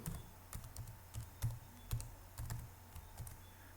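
C program code is typed on a computer keyboard with soft, irregular keystrokes in quick succession. The typing is close, fairly quiet and has no talk over it.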